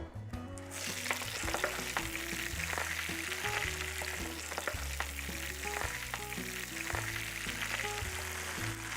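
Spinach leaves fry with toasted pine nuts in oil, a steady close sizzle and crackle throughout with stirring sounds, under a continuous layer of background music.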